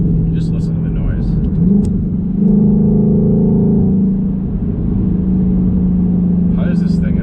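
A Ford Shelby GT500 with carbon fiber track pack rumbles low and steady while driving, a deep engine drone swelling briefly, with someone talking over it at the start and end.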